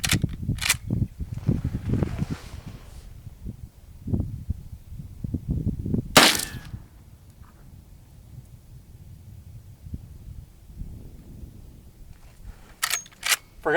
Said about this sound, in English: 357 mag out of this Marlin lever action.